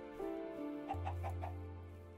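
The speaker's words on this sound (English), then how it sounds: "Is a chicken." A chicken in the Minecraft Direwolf20 modpack gives a few quick clucks over a low, droning background tone, brief and close, with no talk.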